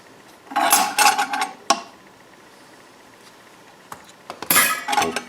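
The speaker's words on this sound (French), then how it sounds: "une dernière rondelle de métal, beaucoup plus épaisse que les autres" Metal washers clinking and scraping against one another as they are stacked, in two clusters of close metallic rattles and taps separated by a quiet pause, with no speech.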